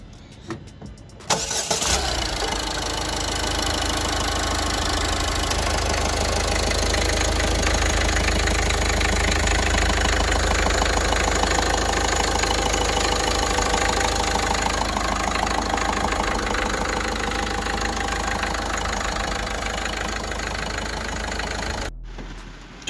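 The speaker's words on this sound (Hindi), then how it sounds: "And this is engine sound." A Ford EcoSport with a 1.5-litre four-cylinder BS6 turbo diesel engine cranks and starts, then settles into a loud, steady, slightly clattery idle for about twenty seconds before cutting off abruptly.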